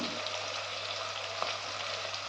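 Oil sizzles in a pan with turmeric added during the cooking of a Nellore fish curry. The frying crackle is steady and fairly close, with a faint stir-like tap midway.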